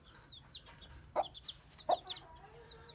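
Soft, low clucks from a brown Aseel hen, a few scattered short calls over faint background noise, with high chirps from her chicks nearby.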